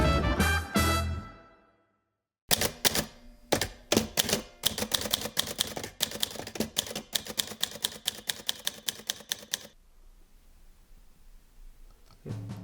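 Typewriter keys clatter in a fast, steady run of sharp mechanical strikes, close up, after a short pause, then the typing stops and leaves faint room noise.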